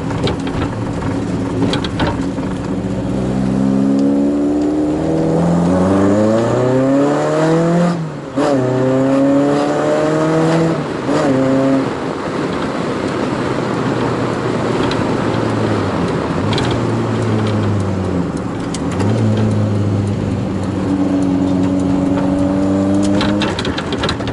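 A Volkswagen Scirocco accelerates hard to overtake, its engine note climbing loudly in repeated rising sweeps through the gears with a brief dip between shifts, heard from close by with no talking.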